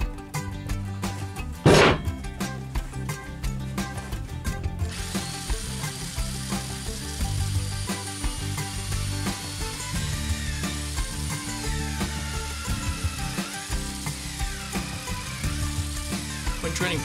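Mechanical workshop noise with a sharp ratcheting burst near the start, then a steady, loud whirring drone of a home-made drill press boring a spade bit into timber.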